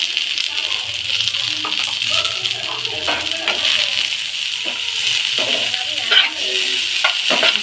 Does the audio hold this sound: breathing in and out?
no